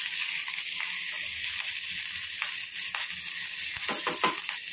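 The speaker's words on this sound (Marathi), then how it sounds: "आपल्याला फोडणीमध्ये थोडीशी बारीक चिरलेली कोथिंबीर टाकायची आहे" Finely chopped coriander sizzles in hot tempering oil for a quick dal, a steady close crackling hiss with a few sharper pops and stirring near the end, no voices.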